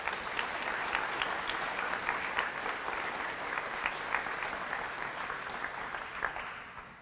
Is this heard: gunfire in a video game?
no